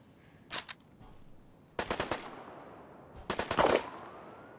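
Gunfire in Deadside: three separate bursts of rapid automatic shots, sharp and fairly close, with quiet gaps between them and a faint background hiss.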